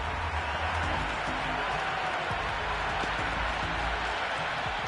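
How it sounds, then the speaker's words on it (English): Raucous cricket crowd cheering and clapping in the video game Cricket 26 fills the air in a dense, continuous roar, loud and unbroken throughout. "The crowd are really getting quite raucous."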